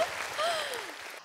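Audience applause breaks out after a stage performance by a seven-school joint team in a talent competition, a short burst of dense clapping with a cheer rising over it.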